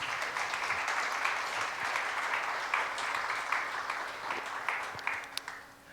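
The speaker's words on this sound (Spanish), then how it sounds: "Dale un aplauso al Señor," A church congregation claps for God in a steady, dense round of applause that holds for several seconds before thinning near the end, with no one speaking over it.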